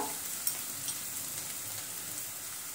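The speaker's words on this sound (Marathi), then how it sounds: "तोही आपण तेलामध्ये परतून घेऊया। कांद्यामध्येच आपण चवीनुसार मीठ टाकूया।" Onions sautéing in hot oil with salt in a pan for a Marathi sprouted moong usal, a steady close sizzle with faint stirring clicks.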